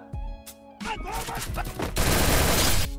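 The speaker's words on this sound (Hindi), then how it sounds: "यहाँ पे मैंने फायर करना स्टार्ट किया है" Gunfire in a shooter video game: scattered game sounds give way to a loud, rapid burst of automatic fire that fills the last second.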